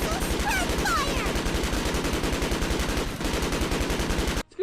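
Rapid automatic gunfire-like bursts from a spread fire attack in the Yu-Gi-Oh video game Duels of the Cyber Realm, steady and loud for over four seconds with faint high whistling effects layered above, ending abruptly.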